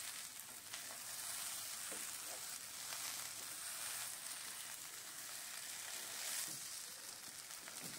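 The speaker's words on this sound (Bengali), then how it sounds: "চালটা আমি ভালো করে ভেজে নেব।" Rice fries in a pan with a steady, close sizzle, stirred with a wooden spatula in soft scraping strokes; occasional faint voice in the background.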